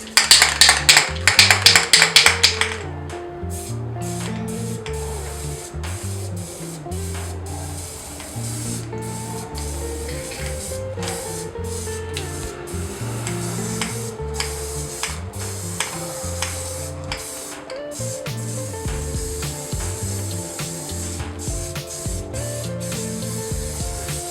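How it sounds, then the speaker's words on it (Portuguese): Spray paint is sprayed onto a stencil from about 20 centimetres in a loud, close hissing burst lasting a few seconds. A quieter, rhythmic backdrop of soft taps and low tones continues afterward. "Vamos utilizar tinta spray e aplicar com uma distância de mais ou menos uns 20 centímetros da superfície."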